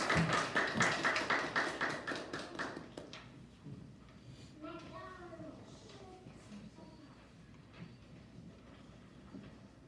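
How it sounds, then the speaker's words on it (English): A school audience at an early childhood centre awards program claps briefly in a rhythmic, fairly loud burst, then it fades away and quiet talking and room noise take over. "Let's give Mrs. Timmons' class a round of applause"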